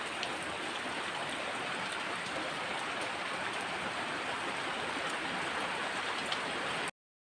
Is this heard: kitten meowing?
no